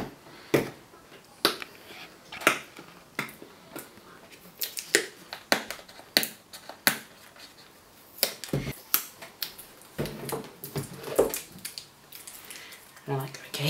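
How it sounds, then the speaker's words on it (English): Crinkly rustles, taps and crisp snaps come from the packaging of a new Roli Lightpad as it is unwrapped close by, in irregular bursts without speech. "So I'll open the package now."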